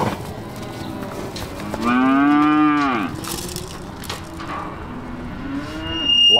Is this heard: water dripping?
no